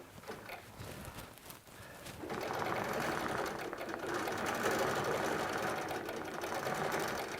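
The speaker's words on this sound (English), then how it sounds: "And then we'll do a stitch" Grace QCT6 automated quilting machine stitching an edge-to-edge pattern, a steady mechanical whir that starts quieter and grows louder and continuous after a couple of seconds, running alone without talk.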